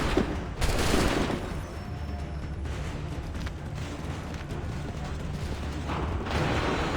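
Soldiers firing guns in the video game Assassin's Creed 3: a sharp volley at the start, then a dense, steady wash of battle noise and distant shots that swells again near the end.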